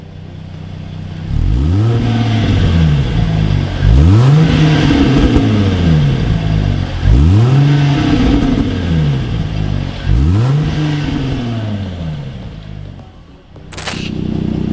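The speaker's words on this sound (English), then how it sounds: "This stainless steel performance exhaust kit not only looks and sounds incredible" A Jaguar 3.0 V6 with a valve-controlled stainless steel performance exhaust revs repeatedly, about five rising and falling throttle blips in a steady rhythm, loud and close, ending with a sharp click.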